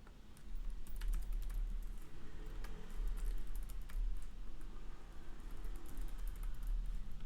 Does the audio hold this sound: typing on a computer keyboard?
yes